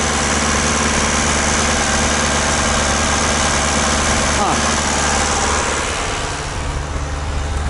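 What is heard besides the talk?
old engine idling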